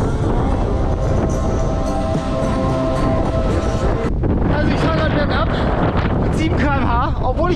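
Steady broadband wind roar buffets the microphone while riding downhill on a road, loud and constant, with someone talking over it in the second half.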